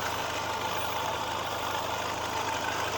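A 2000 Suzuki Katana GX with a carbureted 1000 cc engine idles nearby, giving a steady, smooth, even hum throughout with no voices over it.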